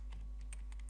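Keys tapped on a computer keyboard while typing into MATLAB, a few light, quick clicks at a steady pace over a low hum.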